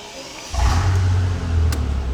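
A 2003 Mercedes-Benz CL65 AMG W215 V12 cranks and catches, settling into a loud, steady running hum after a short burst of starter noise.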